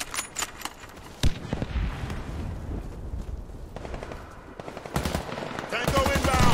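Bursts of machine gun fire and gunshots crackle through the clip, sharp cracks standing out over continuous rumbling combat noise and voices.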